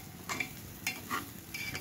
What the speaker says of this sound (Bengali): যেহেতু ধীরে আঁচ দিয়ে ভেজে নিচ্ছি চাউলটা।